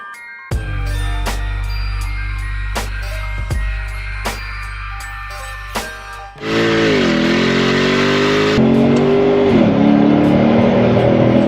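A 2010 Infiniti FX50 S V8 idles with a steady low rumble, then revs up sharply into a loud, sustained roar that rises and dips, heard up close with no talking.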